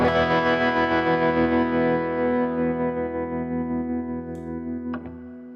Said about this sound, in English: We have a tremolo reverb.